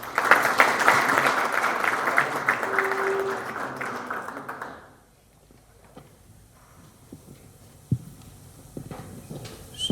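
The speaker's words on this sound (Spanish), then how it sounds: "recibámoslos también con un aplauso" An audience applauds to welcome guests at an exhibition opening in a religious order's general house. Steady, dense clapping fills the first five seconds, then fades into a quiet room with a few scattered knocks and shuffles.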